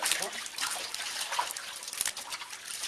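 Water is poured over the feet during bathing, making a close, continuous splashing trickle that rises and falls in small surges.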